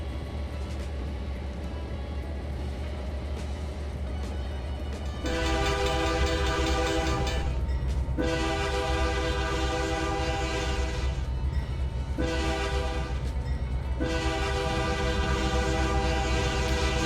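Freight train in the Trainz 2019 railroad simulator: a steady low rumble of running rail cars, then a loud, sustained multi-tone horn sounded in several long blasts separated by short breaks.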